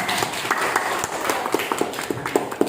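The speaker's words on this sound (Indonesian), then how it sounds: "Beri tepuk tangan dulu untuk semangat mengerjakan." Applause from students in a classroom, a light scatter of claps with sharper individual hits standing out, moderately loud and short-lived amid room noise.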